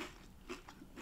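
Faint, close bites into crispy homemade air-fried chips, with a few soft crunches and chewing sounds over a quiet room and no talking.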